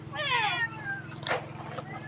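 A cat at Wat Pong Chai temple in Chae Hom, Lampang meows in a long, drawn-out wail, followed by two shorter cries, close and clear over a steady low hum.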